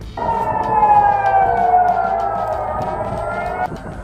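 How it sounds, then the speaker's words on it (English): A single loud, sustained air raid siren in Israel wails with a steady, slowly falling tone for several seconds before cutting off abruptly, sounding during an Iranian missile attack. "Soon, sirens began blaring in southern, central, as well as northern Israel."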